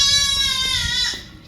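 Newborn baby goats bleating at kidding season, a high, harmonic cry held loud and close for over a second, then trailing off with faint background noise.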